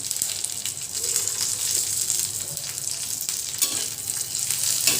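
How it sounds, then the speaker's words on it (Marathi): Green chillies, garlic and cumin fry in a pan for a spicy chilli kharda, making a loud continuous close sizzle with occasional stirring scrapes and small pops. "चांगलं परतून घ्यायचं आहे इथे आपल्या लसूण सुद्धा भाजला जाईल बरोबर"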